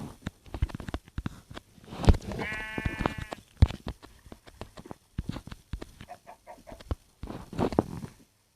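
Minecraft chicken clucks and bleating sheep calls pop up amid busy clicks and sound effects, with a short harmonic squawk in the middle.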